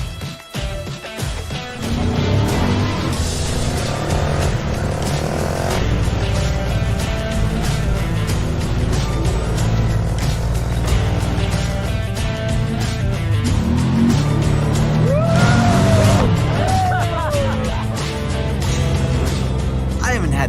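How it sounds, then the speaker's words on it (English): A UTV rides over rough Hawaiian terrain and through water, its engine droning loud and steady throughout with rumbling bumps and splashes, while people shout and talk excitedly over the motor. "I'm about to get into a UTV. It can ride over anything."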